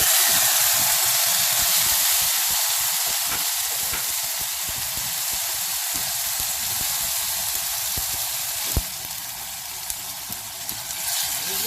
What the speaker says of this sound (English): Everything is sizzling well, and at this stage I'm going to add my onion paste